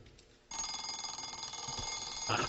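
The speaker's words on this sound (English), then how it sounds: "it's the sound of the alarm clock." An alarm clock rings loudly and continuously with a bright, sustained metallic tone, starting abruptly after a brief quiet moment and persisting to the end.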